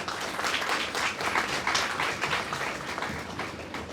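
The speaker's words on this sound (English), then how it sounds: "So big round of applause for Dr. Shah" Audience applause welcoming a speaker at a university talk, a dense, steady spread of many hands clapping from a moderately sized crowd at middling distance, with no speech over it.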